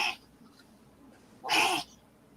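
A dog makes harsh choking, hacking noises: a brief burst at the start, then a louder, longer one about a second and a half later, with quiet between.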